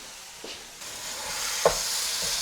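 Chicken pieces sizzling steadily in hot oil with a few scraping stirs of a spoon against the pan, close and continuous with no talking.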